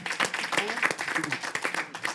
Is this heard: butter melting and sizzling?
no